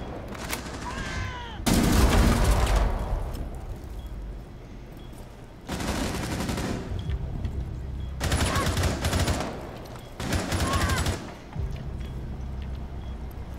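Video game gunfire comes in about four loud automatic volleys separated by short pauses, over low game ambience, with no speech.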